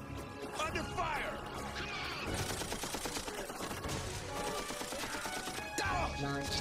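Rapid gunfire in the Killzone video game cutscene, a dense fusillade of sharp shots and crashes under shouting voices, loud and near and running the whole time.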